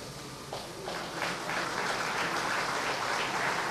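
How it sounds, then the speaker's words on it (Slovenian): Ceremony audience breaking into applause at a cornerstone-laying for infrastructure in the Komenda business zone, clapping swelling from scattered claps into sustained, loud, even applause. "ta aplavz si delijo vsi tisti, ki smo sodelovali na vseh razpisih"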